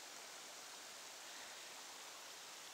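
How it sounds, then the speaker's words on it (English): A small waterfall on a nature trail at Worlds End State Park rushes as a steady, even hiss of falling water, faint and unbroken with no other sounds. "Another small waterfall here"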